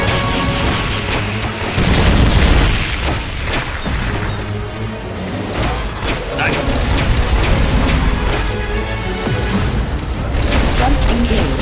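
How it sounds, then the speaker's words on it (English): Trident rocket launcher explosions in a video game, heavy booms and crashes rolling one after another at loud, close range, mixed with game voices and effects. "Trident rocket launcher."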